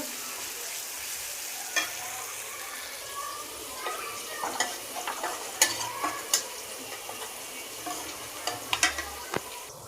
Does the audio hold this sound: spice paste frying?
yes